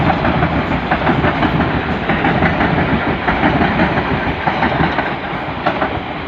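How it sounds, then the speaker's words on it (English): A train swipes through Clapham Junction without stopping, its wheels thumping and clattering over metal points in a loud, continuous rhythmic rumble close by. "The thumping and the whacking of metal as the train swipes through."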